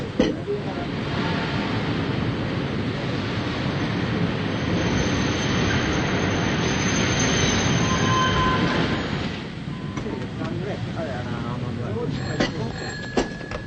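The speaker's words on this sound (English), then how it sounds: "Train's coming in now." A train rumbles and clatters into a station, loud and close, with wheels squealing, then the noise drops away as people talk, in a 1941 film.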